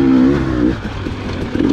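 A 2021 Gas Gas EC300 dirt bike's engine revs up and eases off while riding flowing trail, a loud buzzing two-stroke tone that climbs, dips, then rises again.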